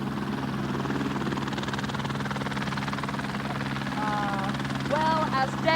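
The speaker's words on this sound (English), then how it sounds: "as Des, Liz and Sandy head for their helicopter" A helicopter's steady rotor thump and engine drone fill the air at close range, with faint voices and a few chirping notes rising briefly over it near the end.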